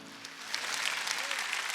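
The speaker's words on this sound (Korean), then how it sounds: "이걸 믿는 사람 박수" A church congregation at a Sunday worship service breaks into applause, a dense, fairly even patter of clapping from a crowd of worshippers, heard briefly and at a moderate distance.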